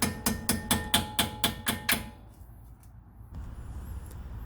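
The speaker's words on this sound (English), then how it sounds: "listen closely to the way the sound changes as you're hammering" Hammering on the rear brake pads of a Lexus ISF being fitted with Winmax W2 pads: eight sharp metallic blows in a steady rhythm, close and loud, then quiet workshop noise.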